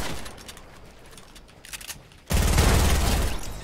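Gunfire in Fortnite, with scattered light crackles and clicks, then a sudden loud, dense burst of rapid shots that keeps going to the end, close and harsh, with no talking.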